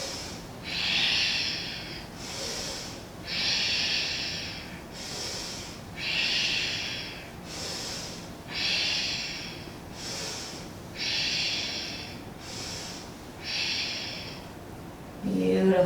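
Deep, powerful yoga breathing during a Kundalini and Yin yoga class, slow regular cycles of forceful airy inhales and exhales, about eight breaths, close and clear, alone.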